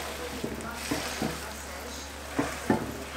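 Omelette frying in a pan as it is pressed onto a tortilla, giving a continuous soft sizzle with several light knocks and taps from the utensil.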